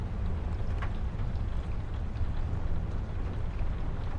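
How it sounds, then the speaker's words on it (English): Cargo vessel engines idling offshore on dark water in heavy rain, a steady low rumble with windy broadband noise and no distinct events, continuous and moderately distant. "Engines idling quietly in dark water."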